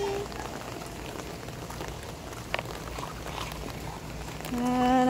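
Steady rain pattering on a surface, a dense hiss of droplets throughout, with a faint tonal sound entering near the end.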